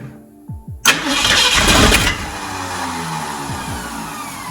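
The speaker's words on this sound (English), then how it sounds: "Well, listen to that starter." A 1969 Ford truck that sat in a field for years gives a couple of short clicks, then the starter cranks loudly for about a second before the engine catches and settles into a steady running drone.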